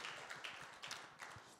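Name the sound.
congregation applause in church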